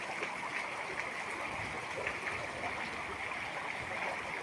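Rainwater streams steadily into a flooded house, a soft continuous trickling rush heard fairly quietly with no talking.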